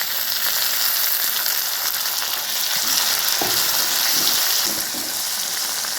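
Finely chopped tomato fries with browned onion in a pan, giving a steady loud sizzle with a few soft stirring scrapes and knocks partway through.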